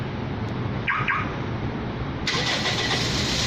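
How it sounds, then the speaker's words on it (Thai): A 2004 Toyota Vios engine cranks and catches via a remote starter, then settles into a steady idle; an electronic chirp sounds just before, with no talking. "ตอนนี้สตาร์ทติดเครื่องยนต์ติดแล้วนะครับ"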